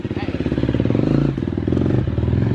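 KTM dirt bike engine running close by, with a rapid pulsing exhaust note that rises and dips with the throttle. Talk can be heard over the engine.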